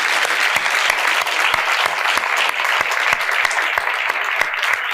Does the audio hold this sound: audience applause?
yes